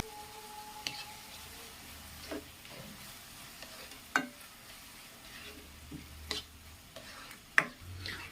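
Quiet sautéing for chicken shorba, with a spoon stirring in a pan in scattered scrapes and taps every second or so over a faint, low sizzle.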